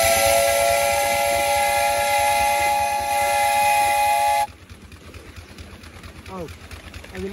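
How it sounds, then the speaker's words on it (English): A steam locomotive's whistle sounds loud and sustained for about four and a half seconds on a rig with a leaking front drain cock, then cuts off, leaving quieter hissing and mechanical rumble. "But listen to this whistle."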